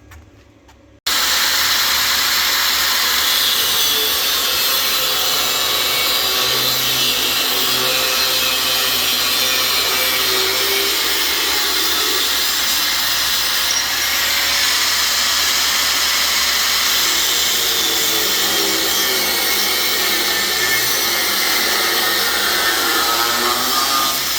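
A loud, steady grinding hiss of a grinder cutting metal to length for a landscape trailer's rear gate runs continuously for a long stretch, harsh and close.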